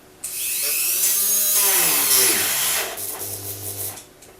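A Dremel rotary tool cutting during a motorbike repair, a loud high whine that starts abruptly, shifts pitch as it bites into the cut, then winds down after a few seconds.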